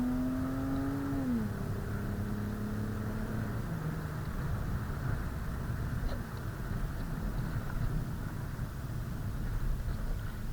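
A second-generation Lexus GS 300 with a QTP exhaust cutout revs in second gear, its engine note sliding down in pitch over the first few seconds before settling into a low, steady exhaust rumble with road noise.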